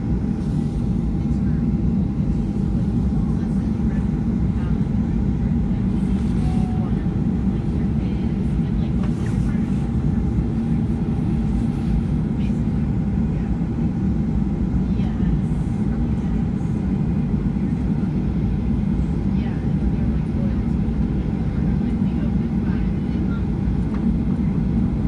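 Airliner taxiing for departure at Wrangell, Alaska, its steady low engine rumble and cabin hum filling the scene continuously and evenly from start to finish, with cabin sounds faintly underneath.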